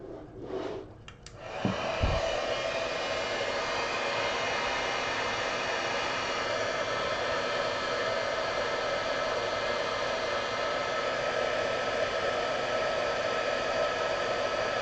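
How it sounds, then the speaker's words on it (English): An embossing heat tool blows hot air over embossing powder on a disc in a steady, loud, close whoosh that runs unbroken for about thirteen seconds after some brief handling noises. "now let's bring the heat tool."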